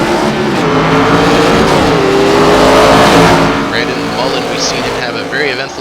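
Race car engines roaring in an iRacing ARCA Menards Series stock car race at Tsukuba Circuit video game, loud sustained revving with pitch shifts as cars accelerate toward a corner, under a commentator's voice.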